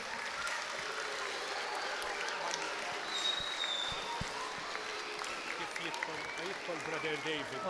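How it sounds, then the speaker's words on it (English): An audience at a school event for a live radio contact with the International Space Station claps steadily throughout, a dense continuous patter of applause with voices faintly underneath. "We can give him a big clap as well."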